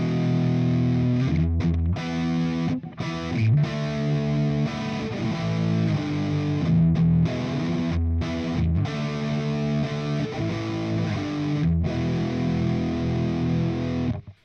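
Heavily distorted electric guitar played through a Nembrini Audio 8180 Monster Tube amp, loud and continuous metal riffing with sustained chords and brief choppy stops, alone without talk.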